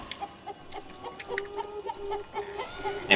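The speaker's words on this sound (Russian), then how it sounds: "Я курицей стал!" A chicken in the video game City of Brass clucks in quick, repeated short bursts, close and moderately loud, with game sounds faintly underneath.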